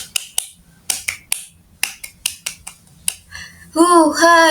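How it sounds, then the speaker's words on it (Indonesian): Pramuka scouts perform a rhythmic group clap, sharp crisp claps in a patterned sequence with short pauses, followed by voices singing or chanting together at the end. "coba ulangi lagi, tepuk pramuka"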